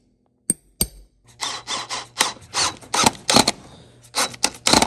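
Sharp metal taps from a nail set being struck to sink nails into a custom leather lineman boot, a series of close, bright knocks in quick irregular bursts with scraping between, no talk.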